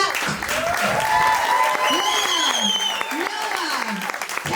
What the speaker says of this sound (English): keep your applause going for the incredible speakers we had today